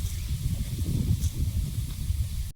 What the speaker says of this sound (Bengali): চিংড়িটা ভাজা হচ্ছে